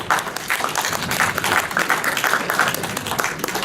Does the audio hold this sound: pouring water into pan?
no